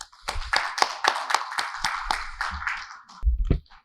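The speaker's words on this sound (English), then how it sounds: "Ladies and gentlemen, please give a round of applause and welcome on stage Rachit Gianchandani." Audience applause welcomes a speaker on stage: a few people clap in sharp, uneven bursts, fairly close and sparse, tapering off with a dull thump near the end.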